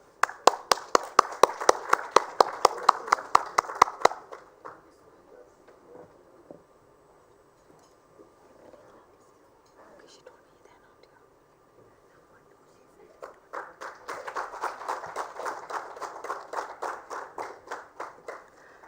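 Audience members at a sanitation awards ceremony in India clap in two distinct bursts, sharp, close and fairly sparse, separated by a quiet stretch of several seconds with faint room noise.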